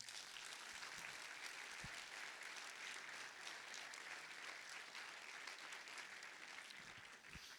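Sustained audience applause at a festival closing ceremony, honoring the technical crew, steady dense clapping from a crowd heard at low level and somewhat distant.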